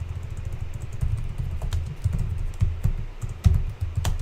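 Computer keyboard typing, a steady run of soft, close keystrokes with irregular rhythm and a few sharper clacks over a low background hum, no voices.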